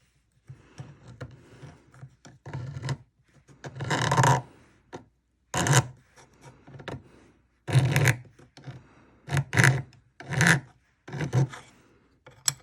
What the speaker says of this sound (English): sometimes I turn stuff over and file it on the other side